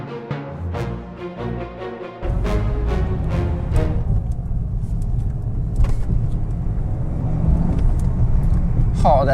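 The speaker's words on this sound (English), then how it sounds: "Oh, that sound is just..." Toyota Yaris GR engine in sport mode, heard from inside the car as a deep, steady, loud rumble that swells sharply after a brief, lighter opening.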